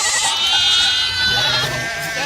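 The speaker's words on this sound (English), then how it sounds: "like a cute little baby goat" A baby goat bleats in a quavering, sustained cry that rises and falls, close and loud with no talk over it.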